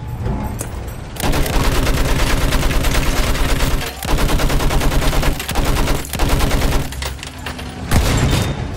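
Pom-pom autocannons and other weapons fire in a Battlefield 1 battle, a dense, loud, continuous barrage of rapid shots and booms with brief lulls near 4 and 8 seconds.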